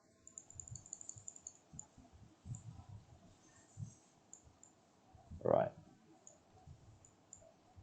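Mouse clicks from working a brush tool in Character Creator 4 software, a few soft, faint clicks with one louder click near the end, under quiet room noise and low background talk.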